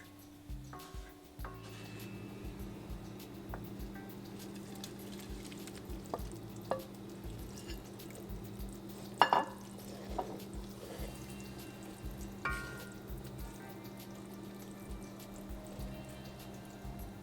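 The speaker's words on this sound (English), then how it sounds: "bring it to a simmer, and then we'll add our bhindi" Okra cooks in a simmering masala gravy, a low, soft bubbling with occasional clinks and scrapes of stirring scattered across the stretch, fairly quiet and close.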